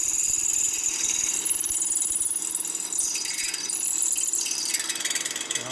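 Drill running fast into the case of a 1992 Harley-Davidson 80ci Evo engine during a rebuild, a loud steady high-pitched whine with a rattling, ratchet-like chatter that shifts in pitch as the bit bites, close up and without talk.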